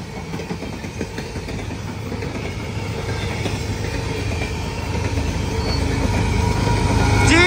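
A Norfolk Southern freight coal train with a DPU locomotive rolls past, a rumbling engine drone and clattering wheels growing steadily louder, with a brief squeal of wheels near the end.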